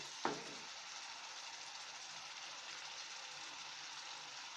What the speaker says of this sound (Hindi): अब हम 2 तेज पत्ते डालेंगे।